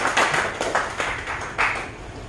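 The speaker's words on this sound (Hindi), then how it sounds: "और इसलिए मैं कहूंगा एक जोरदार तालियों के साथ हम आप सबका" A handful of separate, uneven hand claps ring out from an audience at a meeting in Nagpur, sharp and fairly close, with no continuous applause building up.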